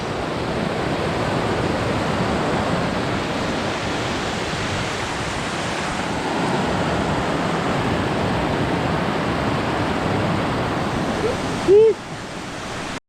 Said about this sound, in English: Waterfall, triple waterfall.